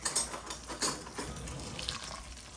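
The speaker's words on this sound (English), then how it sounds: "I will have her pour hot water into the stainless steel bowl. Go ahead, fill it all the way up." Hot water is poured into a stainless steel bowl, a faint, uneven splashing trickle that rises and dips in small surges throughout.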